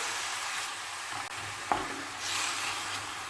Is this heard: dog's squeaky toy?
no